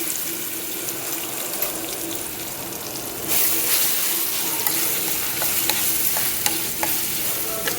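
Mustard-seed tempering for a hand-pounded mango pickle made with salt, turmeric, chilli, small onions and curry leaves sizzles and crackles in a hot pan, a close, continuous hiss with scattered sharp pops that grow louder partway through.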